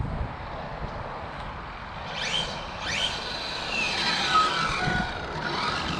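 Traxxas Drag Slash RC drag truck with a Tekin motor and ESC, revving in short bursts with rising and falling whines over a steady whirring hum, fairly close and moderately loud with no talk.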